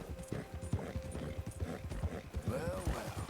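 Horse hooves clip-clop in a steady walking rhythm in Red Dead Redemption 2 near a ranch, fairly close and moderately loud, with someone talking over the hoofbeats.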